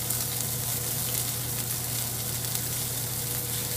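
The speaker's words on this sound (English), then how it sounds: "I'm going to start this green chili roast" Green chile roasting in a pan gives a steady, dense sizzle that holds evenly for the whole stretch, with no voices over it.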